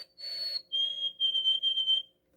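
A singing bird clock plays a high, clear whistled bird call: a long steady note, then a lower tone repeated in quick pulses, close and alone.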